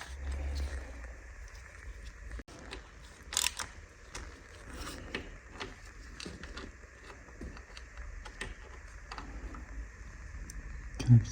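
Hand-tightening Akrapovic titanium exhaust bolts on a BMW R NineT Racer in a workshop gives faint metallic ticks, ratcheting clicks and small clanks scattered through a quiet room, with one sharper knock near the end.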